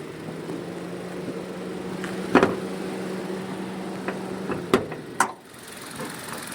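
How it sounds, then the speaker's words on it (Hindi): A Toyota Glanza's four-cylinder engine idles with the hood open and the belt-driven motor running, giving a steady close-up hum with a few sharp ticks and clicks over it. "ये इसकी बेल्ट की मोटर रन कर रही है"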